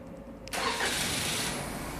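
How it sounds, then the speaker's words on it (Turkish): A 2021 Toyota Corolla starts up nearby with a short crank that catches into a steady, loud engine idle, heard with no voices. "Çalıştırın aracı."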